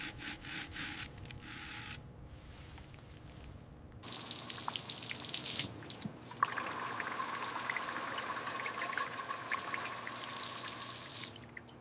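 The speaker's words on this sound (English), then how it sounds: "Rinse off all that degreaser now." Water rinsing degreaser off the brake assembly of a 2002 Ducati Monster during restoration: a steady, close hiss of spray begins after a quiet stretch of rubbing and scrubbing, then runs on loud and continuous to the end with brief interruptions.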